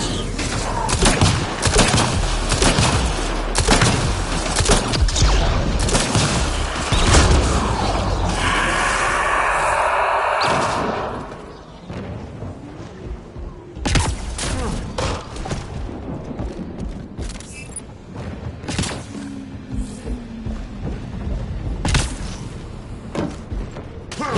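Heavy gunfire during a firefight in Mass Effect: Andromeda: dense, rapid bursts of loud shots and impacts in the first half, then a lull followed by scattered louder blasts and thuds.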